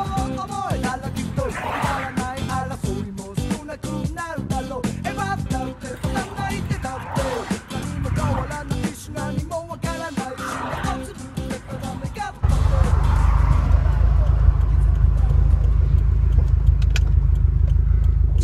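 A 2017 Subaru WRX STi with a stroked engine making 500 wheel horsepower drives along a road, its loud engine rumbling steadily throughout and deepening into a heavier, louder drone for the last several seconds.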